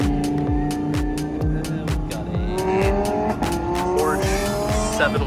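Supercars including a Lamborghini Huracan Evo Spider and Porsche 911 revving hard and pulling away from a rally start line, engines roaring and tires squealing in a dense, continuous loud wash with rapid rising gear shifts.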